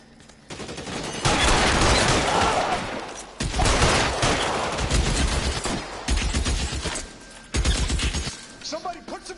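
A shootout in the video game L.A. Noire brings loud bursts of rapid gunfire and fusillades with crashes between them. A voice speaks over the shooting.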